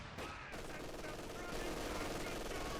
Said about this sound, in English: the Major gets caught there by the MG42